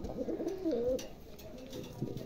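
A pair of pigeons coos close by in soft, throaty, rolling calls that rise and fall, with a quiet room murmur behind.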